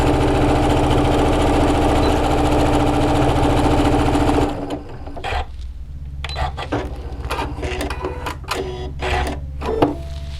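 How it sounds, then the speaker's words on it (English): A sewing machine runs steadily for about four seconds while stitching a small dart with a quarter-inch seam in a fabric face mask, then stops, leaving quiet handling noises and light fabric rustles. "I want to sew a little dart right here"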